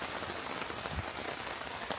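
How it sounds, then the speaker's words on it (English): Rain pattering steadily on a hammock camp tarp and line during a storm, a dense continuous hiss of close drops with no talking. "when the rain hits the hammock line, it will come down and it will drip off this line"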